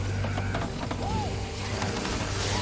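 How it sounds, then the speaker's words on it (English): A ratcheting, clanking ship anchor chain pays out continuously in the video game Sea of Thieves, with a low rumble and a brief creaking sweep in the middle. "I'm gonna drop the anchor"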